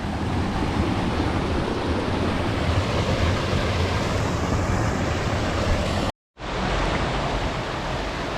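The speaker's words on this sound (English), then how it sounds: "Another waterfall." Waterfall in Death Hollow canyon near the Mamie Creek confluence, a steady loud rush of falling water filling the whole clip without a break.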